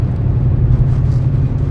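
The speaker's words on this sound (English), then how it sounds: "It gets full boost in third gear and just goes." An all-wheel drive car accelerates at full boost in third gear, its engine a loud, steady, deep roar close by.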